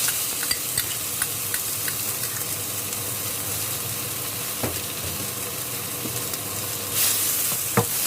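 Pounded spice paste frying in hot oil in a wok for a stir-fry of stink beans, shrimp paste and prawns, giving a steady close sizzle with scraping stirs and a few sharp clinks.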